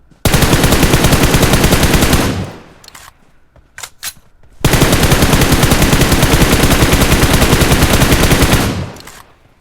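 Rapid automatic rifle fire from an M416 in PUBG Mobile, two long loud sustained bursts separated by a short pause with a few sharp isolated shots in between.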